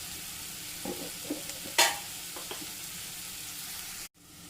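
Sliced onion and masala fry in a pan with a soft, steady sizzle, a few light clinks from stirring and one brief sharp scrape. Everything stays quiet and close, with no speech, until the sound drops out at the end.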